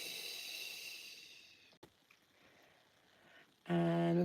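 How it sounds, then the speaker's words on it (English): A breath is let out through the mouth with a soft, audible hiss during a yoga breathing exercise, fading into a quiet pause before a louder, sustained exhale starts. "letting that breath go through the mouth with a little bit of sound"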